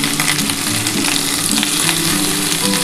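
Katoa stems, pumpkin and potato sizzle and crackle steadily in hot oil in a pan, a continuous close frying hiss with light stirring scrapes and no voices.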